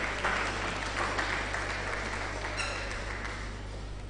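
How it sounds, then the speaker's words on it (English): Audience at a research and innovation day gives a speaker a round of applause, a dense steady wash of clapping over a low hum from the hall's sound system, fading slightly toward the end. "Please a round of applause for her."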